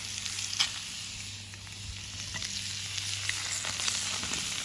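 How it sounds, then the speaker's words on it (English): Dried beans simmer in a Dutch oven raised over an open cooking fire; a soft, steady hiss runs throughout, dotted with faint pops and crackles. "and they're just kind of simmering."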